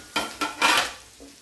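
Carrot kheer being stirred in a pot, a few short scraping swishes of the spoon against the metal, close and fairly quiet, with a slightly longer stroke in the middle.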